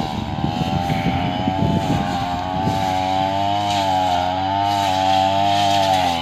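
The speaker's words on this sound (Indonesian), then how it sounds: "Itu pakai mesin ya, mesin babat." A handheld brush cutter cuts vegetation on a farm plot, its small engine giving a steady, close, whining drone that rises and dips slightly in pitch throughout.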